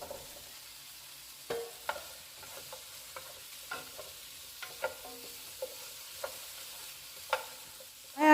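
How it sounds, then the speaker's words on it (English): Vegetables sautéing in a pan for a Mexican soup, heard as quiet scattered scrapes and taps of stirring over a faint, steady sizzle, close by with no talking. "And then I'm just going to continue sauteing for another minute."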